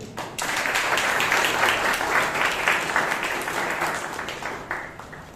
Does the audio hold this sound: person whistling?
no